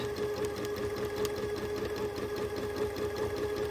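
A sewing machine does free-motion quilting of feather and meander patterns with a continuous close hum and quick rhythmic needle chatter. The running speed varies slightly, and there is no speech.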